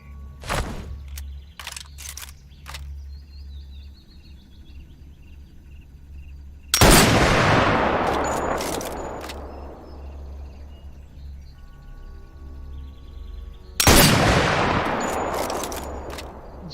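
Two loud, sharp sniper rifle shots in Sniper Elite VR, each followed by a long echoing decay, several seconds apart over a low ambient hum with faint bird chirps.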